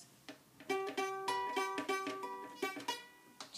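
Guitar plays the simple solo from a song, plucked notes across three strings in a steady, close, moderately quiet line, with no talking over it.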